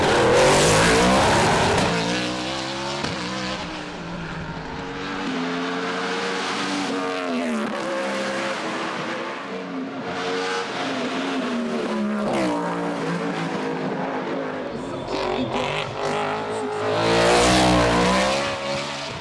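A BMW M3 E92 race car at a hill climb in Saint-Gouénot, France, revs hard through the gears, its engine note rising and dropping repeatedly as it passes close by, loud and alone.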